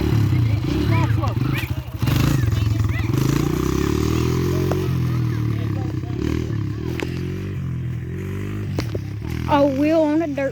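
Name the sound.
dirt bike engine as rider eases off the clutch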